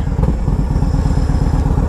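A Yamaha Road Star 1700 motorcycle with an aftermarket intake runs steadily, its loud, close exhaust rumble pulsing evenly while a breathy intake hiss rides on top.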